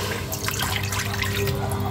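Water runs and splashes into a cooking pot while preparing Ilocano dinengdeng, a brief steady pour close by.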